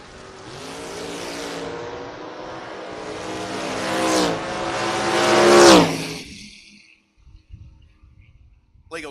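A drag race car, including a Camaro, launches at the strip with a loud, close engine roar that climbs in pitch through several gear pulls, peaks sharply, then cuts off abruptly, leaving quieter distant rumbles.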